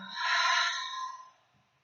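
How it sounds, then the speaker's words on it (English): Group of people exhaling together in one long, soft breath out at the close of a yin yoga session, breathy and close, fading away after about a second. "Together, a nice long breath out."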